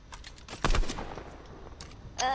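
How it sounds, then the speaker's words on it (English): Rapid automatic gunfire in Fortnite as a player checks a gun: a sharp loud burst near the start, then scattered fainter shots and a quick rattling volley at the end. "We're being shot at. That's me. Sorry, gun checking."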